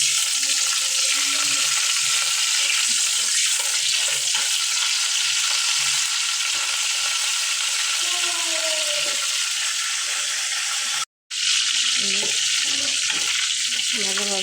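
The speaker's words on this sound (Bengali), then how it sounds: "তারপর শুকনো মরিচ দিয়ে দিলাম।" Dried red chilies fry in hot oil with a loud, steady crackling sizzle, stirred with intermittent clinks and scrapes, briefly cutting out for a moment before the frying resumes.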